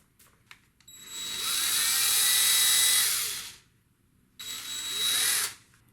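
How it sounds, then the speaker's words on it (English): A power drill spins a flexible dryer vent cleaning rod fitted with a screw-on cleaning tool, whirring loudly and steadily for about three seconds, stopping, then starting again in a shorter second burst. "There's the drill with the attachment on it."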